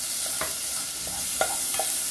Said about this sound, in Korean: 고기가 색이 변할 때까지 볶아주세요